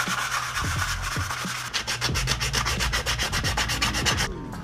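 A cracked car subframe is scrubbed and prepped for paint with an improvised scotch-brite pad, fast rhythmic back-and-forth rubbing strokes, close and loud, with no talk.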